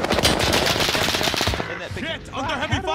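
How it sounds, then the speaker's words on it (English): Machine gun fire from the video game Call of Duty: Modern Warfare rattles in a dense rapid burst for about a second and a half, then gives way to voices speaking over scattered, lighter game sounds. "under heavy fire here!"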